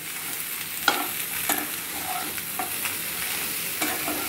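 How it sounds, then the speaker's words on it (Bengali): Salt and turmeric get stirred into bottle gourd and potato in a pan, giving a run of scraping strokes over a soft, steady sizzle, with a few sharper clicks spaced through it and no talking. "আবার নুন হলুদটা লাউ আর আলুর সাথে ভালোভাবে মিশিয়ে দেওয়া হচ্ছে।"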